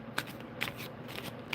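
Tarot cards being shuffled and pulled from a deck, with three soft quick riffling bursts spaced about half a second apart, close and quiet, no voices.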